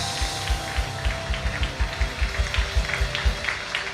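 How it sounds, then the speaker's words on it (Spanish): A church congregation claps loudly in a steady, rhythmic beat during a Spanish-language worship service, the strong regular pulses carrying over music and voices. "Aplauda fuerte, aplauda fuerte, aplauda fuerte, aplauda fuerte, fuerte"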